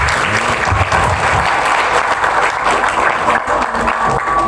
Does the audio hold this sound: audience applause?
yes